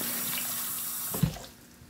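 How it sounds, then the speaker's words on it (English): A raw female crab is rinsed under a running kitchen tap, a steady close splash of water that swells briefly with a louder gush and then fades as the flow stops. "So I'm just rinsing all that to clean it,"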